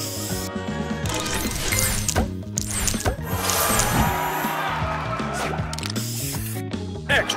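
Spray booster effect in the Match Masters puzzle game: a hissing spray burst amid busy chiming, clinking game sounds and background music, loud and continuous, with short voice callouts.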